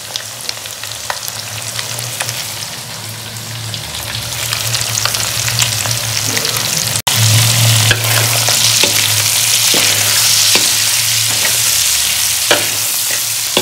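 Onions sizzle loudly in a hot pan with egg for egg chicken Hakka noodles, a continuous frying crackle punctuated by repeated scraping stirs, growing louder midway, with no talking.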